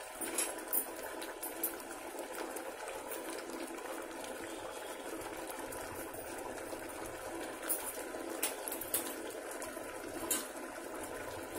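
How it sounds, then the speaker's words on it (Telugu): Vermicelli simmering in water for Ramzan semiya kheer, a low steady bubbling with soft scattered pops and clicks, close and fairly quiet throughout. "ఇలాగా 2 మినిట్స్ అవుతుంది, ఇది ఇలా ఉడుకుతుంది కదా"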